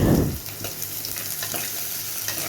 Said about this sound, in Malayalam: ഈ ഉള്ളി ഒന്ന് മൂപ്പിച്ചെടുക്കുക പിന്നെ അതോടൊപ്പം ഇനി പച്ചമുളകും കൂടെ ഇട്ട് കൊടുക്കുക